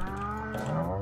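A single drawn-out cow moo from Stardew Valley, a farming video game, close and clear over a quiet background.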